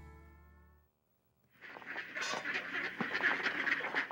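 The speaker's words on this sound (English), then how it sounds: "Here's Kevin Kramer going down to feed the ducks, as he's been doing for 4 years." Ducks gathering to be fed on the banks of the Huron River quack in a busy overlapping chorus that swells after a short pause and keeps going, moderately close, with no talking.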